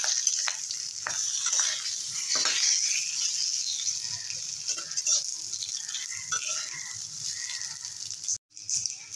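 Fish sizzling steadily as it fries in a pan, a continuous crackling hiss with occasional soft stirring scrapes, close and fairly loud with no talking, cutting out briefly near the end.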